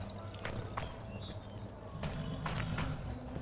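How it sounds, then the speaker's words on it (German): Horse hooves clop in a few quick, uneven strikes over a low, murmuring background in a medieval video game, moderately close and fairly quiet, with no other clear sound standing out. "Ist ein Pferd los?"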